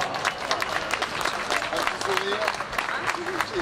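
Crowd applause at the finish of the Paris-Alsace race walk on Place des Vosges in Épinal, greeting walker Tatiana Maslova; continuous clapping and cheering, fairly close, with a voice over a loudspeaker running through it.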